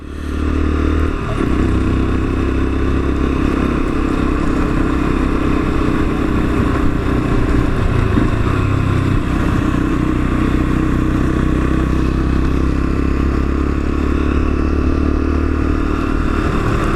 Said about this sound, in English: A very, very easy motorcycle to ride, this one.